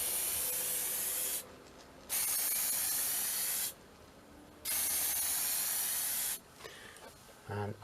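Aerosol can of anti-shine matte varnish hissing onto a painted Talisman game miniature, three long steady spray bursts with brief quiet gaps, ending in a faint clicky rattle.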